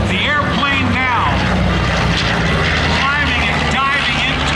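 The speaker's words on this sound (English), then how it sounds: "as we see the aircraft come by, the airplane now" A World War II B-25 bomber and a Japanese Zero, both propeller-driven, pass overhead at an airshow in Duluth. Loud, droning engines rise and fall as they fly by, with an announcer's voice carried over a public address system.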